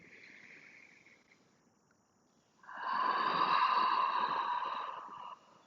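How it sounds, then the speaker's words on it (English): A long, steady breathy exhale through the mouth in Ujjayi breathing, like fogging a mirror, during a moderate yoga session. It rises after a quieter stretch, stays loud and close for almost three seconds, then stops abruptly. "that like mirror fogging breath, it's Ujjayi breathing"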